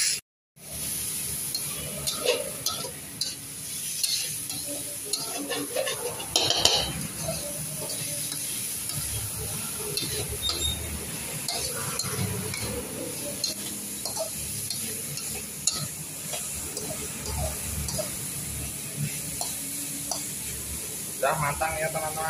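Chayote and shrimp stir-fried in a pan: a spatula scrapes and stirs continuously over a steady sizzle, with occasional clanks of utensil on metal, close and fairly loud throughout.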